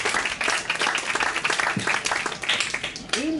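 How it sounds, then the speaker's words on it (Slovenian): Audience applause at a literary reading event, a steady burst of clapping over about three seconds with some talk mixed in near the end. "En aplavz za Gajo."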